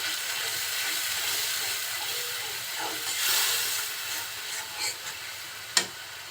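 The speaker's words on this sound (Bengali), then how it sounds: "ঝালের গুঁড়া আর দিব জিরা গুঁড়া দিয়ে মশলাটা খুব সুন্দরভাবে আগে একটু কষিয়ে নিচ্ছি" Chili and cumin powder spice paste fries in oil in a pan, giving a steady soft hiss throughout, with a few brief scraping stirs and one sharp clack near the end; no one speaks.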